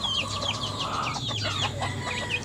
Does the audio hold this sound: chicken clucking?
yes